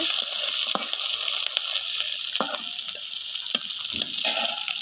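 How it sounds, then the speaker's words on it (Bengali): Onions fry for a bitter gourd dish on a clay stove, a loud, continuous crackling sizzle close by, broken by several clattering scrapes and knocks of a utensil against the pan, with no talk. "এখন আমার সুন্দর করে পেঁয়াজটাকে ভালোভাবে ভাজতে হবে লাল লাল করে"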